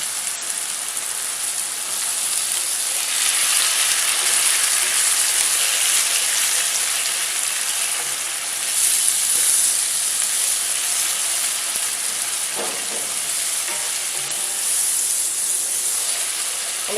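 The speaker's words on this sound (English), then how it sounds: "I'm just going to cook the wine down on the onion." Onions and dry white wine with honey sizzle steadily in a frying pan, a loud continuous hiss that holds throughout with only slight swells.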